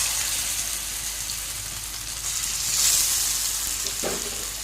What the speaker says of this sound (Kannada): ಎಣ್ಣೆ ಬಿಸಿಯಾಗಿದೆ, ಮೀನನ್ನು ಹಾಕ್ತೇನೆ